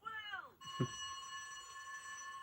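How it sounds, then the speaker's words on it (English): An alarm goes off on a children's DVD, a steady electronic ringing tone that starts suddenly after a brief voice and then holds at an even level. "they jump straight to the alarm sound, the alarm going off without mentioning that they're going to call the fire brigade"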